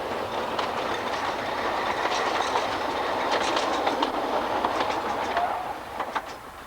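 A Festiniog Railway single Fairlie locomotive hauls its train along the line, a steady rolling rumble with light clickety-clack of wheels on rail joints, fading slightly toward the end, with no voices.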